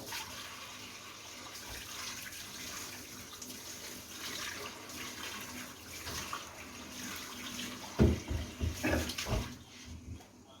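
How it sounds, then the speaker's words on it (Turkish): Cold water streams down the sides of a tea kettle, a steady running-water hiss that swells into louder splashing pours near the end. "Kenarlarına böyle soğuk su değ, üstünden aşağı soğuk su çekiyorsun azıcık."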